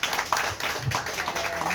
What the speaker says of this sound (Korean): 박수 쳐야 될 것 같아요